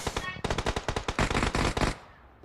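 Rapid automatic gunfire in PUBG, a dense close burst of a dozen or more shots in quick succession that stops abruptly and leaves a short tail.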